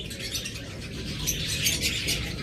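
A pair of violet mask lovebirds chirps inside a cage, with short bright calls repeating over a steady, noisy room background and no talking.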